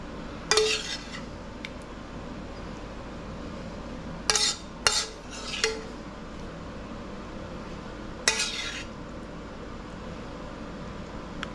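Beef mixture spooned into bowls of niku udon in a home kitchen, a few sharp clinks and scrapes of a spoon against the bowls in short bursts, with quiet pauses between them.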